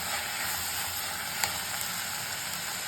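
Tomatoes and onions for an onion sabzi sauté in a hot pan with a steady, close sizzling hiss, one brief clink partway through, no talk.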